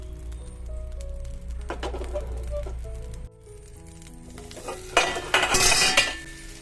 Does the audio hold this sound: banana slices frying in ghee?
yes